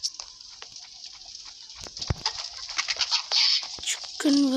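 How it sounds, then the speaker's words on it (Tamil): Chirpy bird-like clucks and coos from a chicken in the Roblox game Deadly Delivery, a quick scatter of short calls rising over a busy game soundscape, with a brighter burst near the end. "சிக்கன் வருது."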